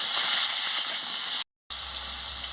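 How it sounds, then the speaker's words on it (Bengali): Hog plums tipped into a hot pan of oil with dried red chilli for a chutney and stirred, giving a loud, steady sizzling hiss that cuts out for a brief silent moment before resuming. "আমি আমড়াগুলো দিয়ে দিচ্ছি। দেখুন বন্ধুরা, দিয়ে ভালো করে নাড়িয়ে নিচ্ছি।"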